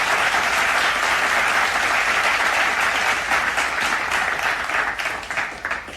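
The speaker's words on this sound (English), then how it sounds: "Please audience give a huge round of applause." Loud, sustained audience applause rings out at a school felicitation ceremony, thick clapping that holds strong before thinning slightly toward the end.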